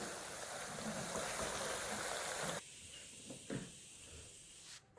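Onion and potato pakodas fry in oil over a lowered flame, a steady close hiss that abruptly drops to a quieter bubbling with a couple of faint clicks and a sharp knock at the end.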